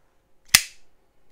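A Cold Steel folding knife with a 6-inch blade snaps sharply as it locks, a single loud, close click followed by faint small mechanical rustles, with no talk.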